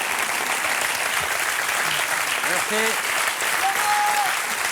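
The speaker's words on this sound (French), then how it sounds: "Faites-vous applaudir un peu." An audience applauds a comedian on stage, steady clapping filling the room while someone speaks briefly over it.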